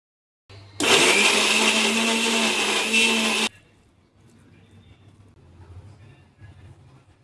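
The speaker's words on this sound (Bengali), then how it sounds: "একটা মিক্সি জারে বোনলেস কিছু চিকেন, তারপর ওর মধ্যে কাঁচা লঙ্কা, একটু আদা রসুন কুচি, একটু ধনে পাতা আর শেষে একটু ব্রেড ক্রাম্বস দিয়ে ওটা ভালো করে পেস্ট করে নিতে হবে।" A mixer grinder jar blends boneless chicken with green chillies, chopped ginger and garlic, coriander leaves, bread crumbs and lemon juice into a paste, giving a loud, steady motor whir for about three seconds that cuts off abruptly, leaving a quiet room.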